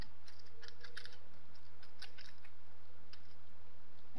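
Rapid keystrokes on a computer keyboard while C code with printf for a weight prompt is typed, a steady run of light clicks in the first half thinning to scattered taps, over a constant low electrical hum.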